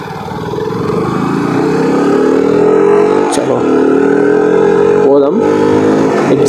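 A KTM RC 125 motorcycle engine revs steadily while being ridden on a rough road, its pitch climbing gradually and staying loud and close, with people talking over the engine.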